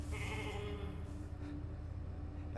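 A sheep in a video game gives a drawn-out, nasal bleat near the start, set against a steady low electronic hum and background game noise.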